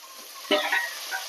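Tomatoes tossed into a hot pan with onion and green chilli for tomato rice give one quick scrape of a spoon, then a soft, close sizzle as they fry.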